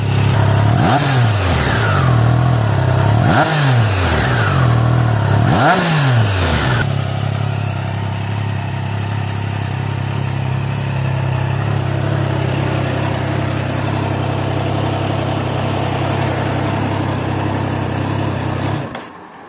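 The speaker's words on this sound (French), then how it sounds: "on va s'écouter un peu la sonorité du 3 cylindres en ligne" Triumph Trident 660 with an inline three-cylinder engine, blipped three times in quick rising-and-falling revs, then left to idle steadily and evenly up close for a long stretch.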